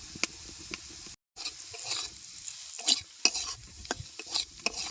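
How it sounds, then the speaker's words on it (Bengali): Potatoes and cauliflower fry in oil, a close sizzle punctuated by repeated scraping stirs, with a brief silent gap early on and no talking. "আলু আর ফুলকপি দেন বেশ কিন্তু ভালো মতনই ভাজা হয়ে গেছে"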